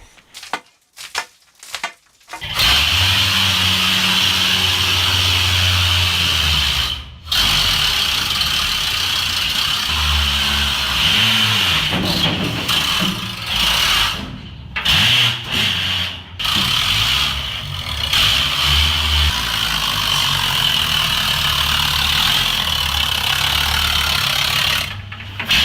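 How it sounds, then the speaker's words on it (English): A Mancha trammer, a lead-acid battery locomotive, runs inside a quartz drift mine with a steady motor whine and rumble, loud and close, broken by a few brief pauses and clunks. "Is what they call a mancha trammer. These are lead acid batteries"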